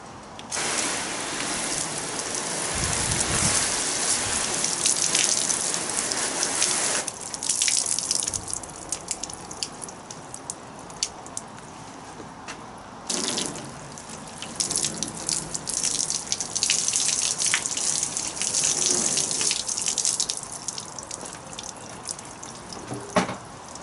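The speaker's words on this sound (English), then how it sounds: "Let's go and put a bit of water on it." Water poured and running over a freshly waxed car coated in Soft 99 Extreme Gloss Wax, a steady hissing flow with dripping and gushing surges throughout, alone with no talking.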